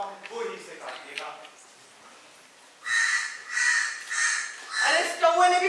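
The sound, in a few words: crow cawing, sound effect in school play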